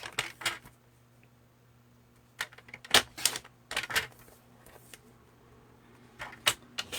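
Paper trimmer or scissors slicing card stock for a handmade greeting card, a few sharp, close cutting strokes and rustles separated by quiet pauses, with a low steady hum underneath.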